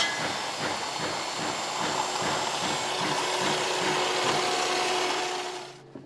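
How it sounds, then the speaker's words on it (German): Handsaw cutting notches into a wooden pattern roof rafter in a carpentry shop, a steady rhythmic back-and-forth rasp of close strokes that ends abruptly. "Der Mustersparren wird zugeschnitten, auf die richtige Länge. Und die Kerven werden gesägt."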